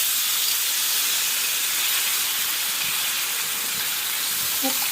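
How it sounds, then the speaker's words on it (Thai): Garlic and fermented soybean paste stir-fry in a pan for a Chinese-style braised duck dish, giving a constant, fairly loud sizzling hiss with no break. "ผัดจนกว่ากระเทียมจะหอมนะคะ เต้าเจี้ยงของเราลงไปเลค่ะ"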